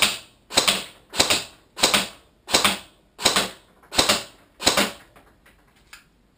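A Masada airsoft rifle fires a string of about seven sharp, clattering mechanical bursts at an even pace, each one loud and close. The bursts end with a few faint trailing clicks.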